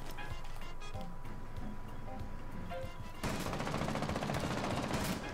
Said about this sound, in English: He's shooting me from outside